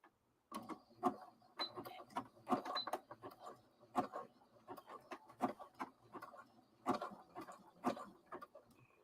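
A sewing machine zigzag-stitches fabric for a tabard, running in short mechanical bursts of rapid needle ticking separated by brief pauses, close and fairly quiet with no talking.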